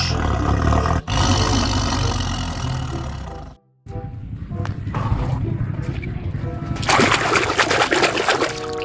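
A tiger roars loudly and close, a rough, sustained growl with a short break partway through, answered by more roaring and rumbling.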